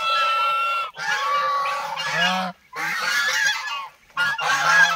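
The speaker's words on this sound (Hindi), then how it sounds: "हम इन बतखों के लिए कुछ खाने के लिए लेकर आए हैं और ये अभी फ़िलहाल इस गार्डन में घूम रही हैं।" Several ducks roaming a garden nursery give loud, close honking calls in three bursts with short pauses between them.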